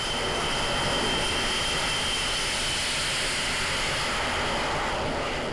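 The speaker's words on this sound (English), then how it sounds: "There's something utterly mesmerising about the F-35 jet. The sound, the heat and the power" An F-35 stealth fighter's jet engine gives a steady, loud roar that fills the whole clip without pause, heard alone.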